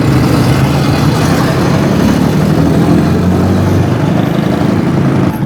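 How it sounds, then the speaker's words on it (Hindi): Motorcycles ride along an elevated road overhead near a U-turn under construction at Sohrab Goth, Karachi, making a steady, continuous engine and traffic drone that stays loud throughout. "ऊपर मोटरसाइकिल ऐसे कैसे चल रही हैं देखें।"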